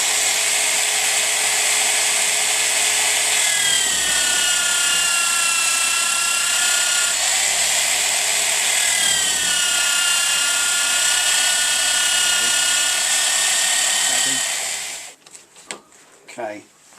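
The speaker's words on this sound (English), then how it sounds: "just bunging in this is just a 120 grit, nice reasonably fine wheel on a rubber back" Power tool spinning a 120 grit flap wheel on a rubber backing, a loud steady high whine with slight pitch dips as it bites the workpiece, running continuously before cutting off near the end.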